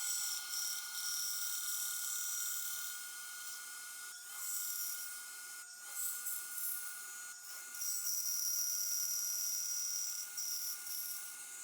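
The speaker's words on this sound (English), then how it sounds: "Back at the bandsaw now, I'll use my fence to help make these cuts and keep them dead straight." A bandsaw runs steadily while cutting wood guided along the fence, a continuous high whine with slight shifts in pitch and brief dips as the blade works through the board, close and without talk.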